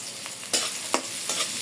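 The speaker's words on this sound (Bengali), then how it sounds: "পেঁয়াজগুলো একটু লাল লাল করে ভেজে নেবো" About a cup of onions fry in oil in a pan that had just been used for shrimp, with a constant hissing sizzle broken by three sharp stirring scrapes, and no talking.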